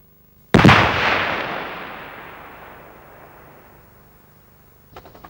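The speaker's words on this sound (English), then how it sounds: "The Carl-Gustav was fired from a weapon mount." A Carl-Gustav recoilless rifle fires from a weapon mount with a single sharp, very loud blast that decays into a long rolling echo over several seconds, followed by faint distant crackles near the end.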